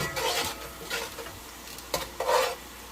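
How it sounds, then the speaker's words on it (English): Sofrito sizzling and frying in a pan, with a spoon stirring and scraping against it in bursts, close by and fairly loud. "That's that Sofrito frying up."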